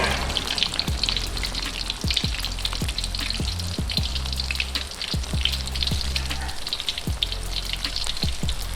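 Masala-coated fish for fish chukka fries in a pan, a loud continuous crackling sizzle with occasional scraping taps over a low steady hum.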